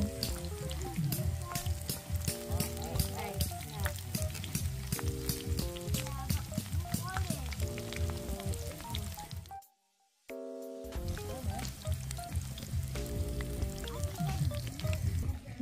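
Turon (banana rolls) frying in a pan at a campsite: a steady, soft sizzle runs under loud music, cutting out for a moment partway through before resuming.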